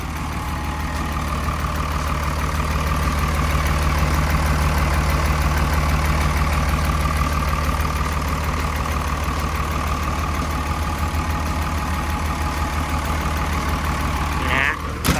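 A Komatsu WA200-3E wheel loader engine idles in a steady, loud, continuous drone with an even low rumble and no change in pace. A faint voice may sit under it.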